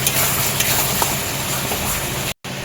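Spice masala for chicken curry sizzling in a pan, a dense continuous frying hiss with faint stirring, loud and close, with a brief dropout near the end.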